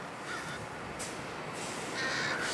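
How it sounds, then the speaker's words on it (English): A couple of crows flying by outdoors, cawing a few times while harassing a large bird of prey, heard against steady wind and background hiss, moderately loud and not far off. "And there are a couple crows flying by."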